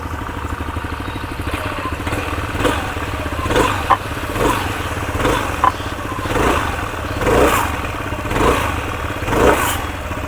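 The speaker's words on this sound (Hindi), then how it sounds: "मैं आपको इसका एग्जॉस्ट नोट सुना देता हूँ." A Hero Xoom 160 scooter runs with its engine and exhaust steadily rumbling nearby, rising in several repeated throttle blips over about ten seconds, without speech.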